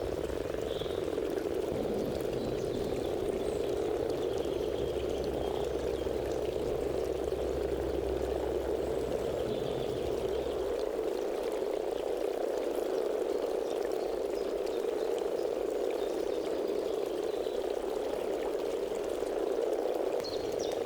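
Frogs croak outdoors in a dense, continuous chorus of loud overlapping calls that holds steady throughout, with no voices.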